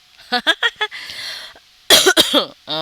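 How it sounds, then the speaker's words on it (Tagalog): A few sharp coughs in quick succession, close to the microphone, followed by a harsher throat-clearing cough and a brief voiced sound. "may ubo po tayo"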